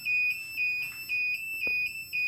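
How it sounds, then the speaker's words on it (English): Kombora III security system alarm set off by a motion sensor, giving a loud, steady high-pitched electronic tone in repeating pulses, with a brief click partway through. "it is going to tell us which sensor is causing the alarm"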